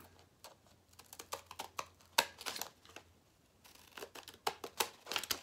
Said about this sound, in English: my scissors get stuck in it a little bit because of all the glitter